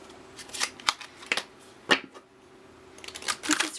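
A deck of tarot-style cards is shuffled by hand in a quiet room, producing several crisp riffling bursts at irregular intervals, close to the microphone.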